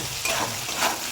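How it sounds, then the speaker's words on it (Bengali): Pumpkin frying in a pan, seasoned with a little salt and turmeric, gives a steady close sizzle with faint stirring scrapes, alone and without speech. "তো চলো ভাজাটা হয়ে নিক আগে।"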